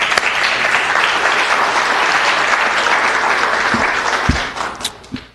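Applause at a city council meeting recognizing a youth group, a loud, even roar of many hands clapping that holds for several seconds, then breaks into a few isolated claps as it dies away.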